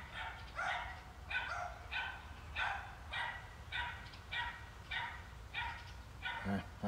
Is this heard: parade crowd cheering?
no